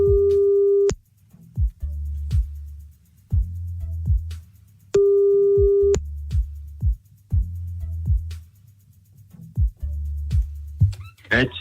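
Telephone tones on a callback during a French radio show on NRJ: two long steady ringback tones, each followed by a series of short clicking beeps, with no talking.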